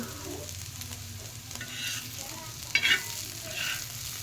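Radish sizzles in a hot pan, close up, with spoon stirring and scraping and no talking.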